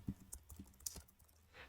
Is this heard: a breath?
no